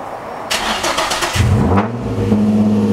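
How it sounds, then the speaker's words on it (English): Car with an HR Y-pipe exhaust starting: a loud close starter crank and catch, then a rumbling low idle that settles into a steady drone. "I need to start my car now."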